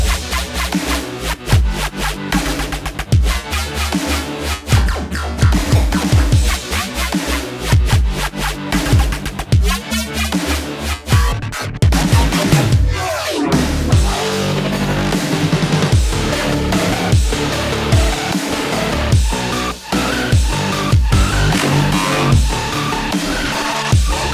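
The first drop of a Future Punk wavetable synth track hits with dense, stuttering, chopped synth bursts over heavy bass and drums. The sound is loud and continuous, with no talking.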